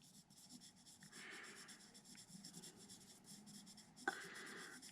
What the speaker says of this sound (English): Just gliding the pencil, developing the value very slowly.